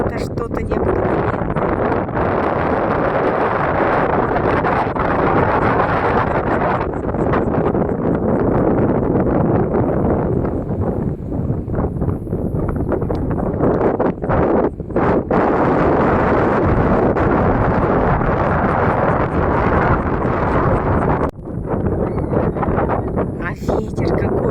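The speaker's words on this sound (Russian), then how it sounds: "А ветер какой освежающий." Strong sea wind gusting on the shore, buffeting the microphone with continuous rushing roar.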